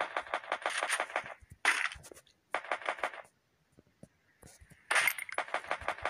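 Bursts of rapid gunfire from the video game Free Fire, played on a Figi Note 1 Pro phone, come in several clustered volleys separated by short pauses, fairly faint, with no talk.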